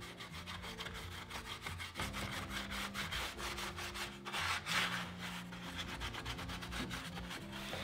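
Stiff wax brush working clear wax over a chippy milk-painted mirror frame, giving close, steady rhythmic scrubbing strokes with a dry rasping texture and no talk.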